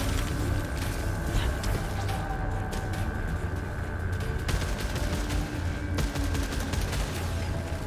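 Dense, continuous gunfire in a video game, a loud rapid stream of shots and sharp cracks with a steady roar underneath, heard alone without talk.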